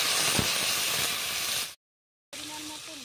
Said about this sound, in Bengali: তেলের মধ্যে দিয়ে দিচ্ছি কেটে রাখা আলু।